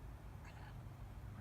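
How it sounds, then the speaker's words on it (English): A pet cat gives a faint, short meow indoors, barely rising above a steady low background hum, with no one speaking over it. "Hello, cat."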